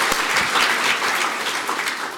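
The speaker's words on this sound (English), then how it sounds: "One more round of applause," An audience at a formal Māori-context literacy event claps in a dense, steady round of applause, sustained and fairly loud throughout with no voices standing out.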